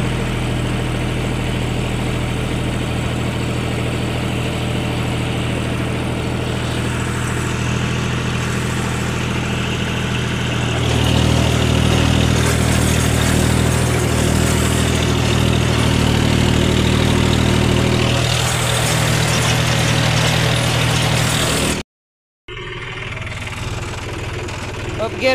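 A tractor engine idles steadily with a Birbal rotavator attached, a loud, continuous low rumble that grows heavier midway, then cuts out briefly near the end before resuming.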